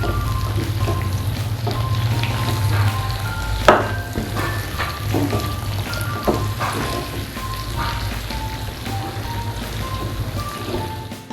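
Chicken jalfrezi sizzles and fries in a pan, a steady close crackling hiss with faint stirring and occasional clinks, no talking.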